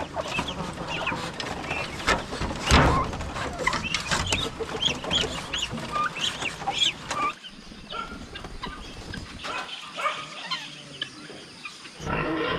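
Ducks cluck and call in a busy yard, a flurry of squawks and chatter that quiets, then resumes.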